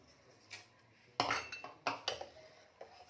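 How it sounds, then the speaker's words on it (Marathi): A spoon clinks and scrapes against a metal vessel while jaggery is stirred into colostrum milk. The close, bright clatter comes in a few irregular bursts with quiet gaps between them. "गुळ चांगला मिक्स करून घ्यायचा आहे."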